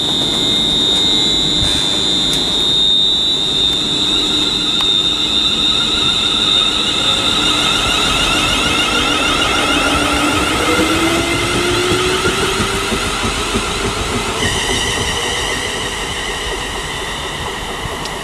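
ScotRail train 38112 on the North Berwick to Edinburgh service pulling away, a loud sustained rumble with a rising electric whine that slowly fades as it departs.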